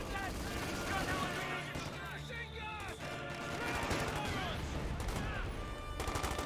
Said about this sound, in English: Heavy machine guns!